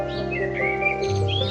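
Starlings calling beside a nest site in a hole in the wall of a neighbouring suburban house, a steady run of chirps, whistles and warbling tweets, fairly close and continuous, with no talking.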